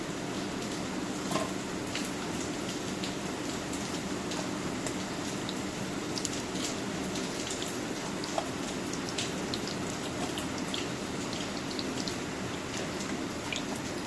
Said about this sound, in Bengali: আপনারা মচমচা করে ভেজে খাবেন, এটা মচমচা না হলে ভালো লাগে না।